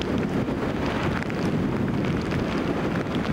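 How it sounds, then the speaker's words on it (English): Strong storm wind with gusts over 60 miles an hour roars and buffets continuously, a dense rushing noise with no voices. "The storm peaked around mid-afternoon with wind gusts in excess of 60 miles an hour."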